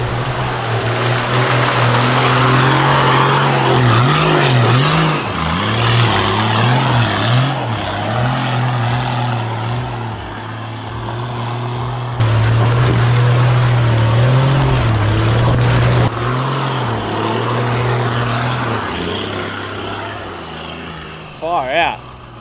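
A car climbs a steep, snowy hill, its engine holding a loud, strained drone that rises and falls with gear and throttle changes over a long stretch, with people talking over it.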